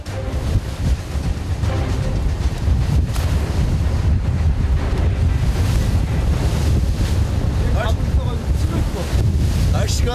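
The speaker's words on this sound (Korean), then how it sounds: "하지만 파도는 좀처럼 가라앉을 생각을 않는다" Rough sea waves crash and heavy wind buffets the microphone aboard a skate-fishing boat at sea, a loud, continuous roar of surf and gusts with no speech.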